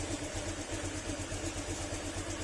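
A steady, low idle from a Honda Click 125 scooter engine with a faulty ECU and fuel pump, cold and smoking heavily, with a pulsing, rhythmic rumble, close and continuous with no talking.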